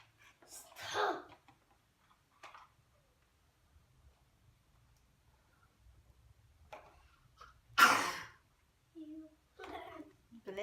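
A sudden, fairly loud sneeze breaks a quiet room during block play, a second sharp sneeze follows several seconds later, and children's voices murmur faintly in between.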